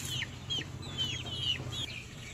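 Several farm chickens in a grower pen cluck in short, quick bursts, four or five distinct calls repeating at close range over a soft low background hum.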